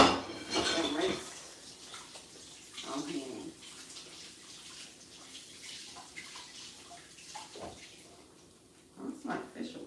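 Dishes rinsed in a kitchen sink: running tap water with clattering plates and cutlery in short bursts, close by, with a person talking in between.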